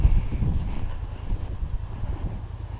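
Steady wind buffeting the microphone during snow plowing, a low rumbling roar that gusts and fades throughout without pause.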